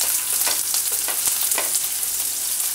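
Green chillies fry steadily in a pan over low heat for Maharashtrian thecha chutney, a dense continuous sizzle with close crackling pops and faint stirring scrapes throughout.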